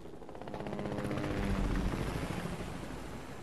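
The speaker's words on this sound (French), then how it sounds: "il y a un hélicoptère" Helicopter in a Fortnite-style battle royale game, a steady rotor thrum swelling louder toward the middle and easing slightly, heard alone without talk.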